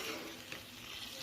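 Green peas fry in spices over a low flame, giving a quiet, steady sizzle with faint crackles that stays even and soft throughout the short stretch.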